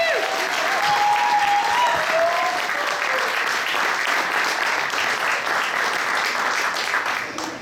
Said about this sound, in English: Let's have a large round of applause for our Richters.